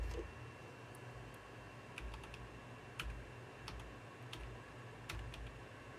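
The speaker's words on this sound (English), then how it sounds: "Keyboard." Typing on a computer keyboard: sparse, crisp key clicks in small clusters over a steady low hum, fairly close and moderately quiet, with no talking.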